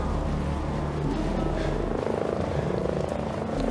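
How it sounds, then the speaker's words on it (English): Helicopter in the video game Ghost Recon Breakpoint approaching, a steady loud rotor and engine drone filling the whole stretch with a constant low throb and no talk over it. "There's a chopper coming in."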